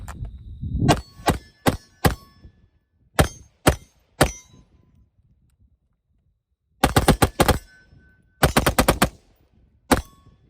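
PSA 11.5-inch AR-15 pistol firing outdoors: loud, sharp gunshots with ringing metallic echoes, first spaced single shots, then rapid strings of several quick shots, with silent gaps between.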